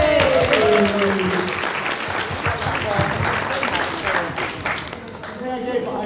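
A crowd at a Slimming World convention gives a round of applause, steady dense clapping with some cheering and a raised voice over it, tapering slightly toward the end.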